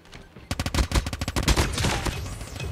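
Rapid bursts of Cordite SMG fire in the mobile shooter Call of Duty Mobile, sharp repeated shots in quick clusters with a denser, steadier spray toward the end, loud and close.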